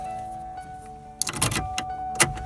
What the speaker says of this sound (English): We have ignition.